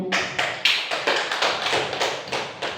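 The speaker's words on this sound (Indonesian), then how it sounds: "tepuk tangan untuk kita semuanya" A small group at a school gathering claps briefly in a steady beat of distinct hand claps, close and fairly loud, with no talking.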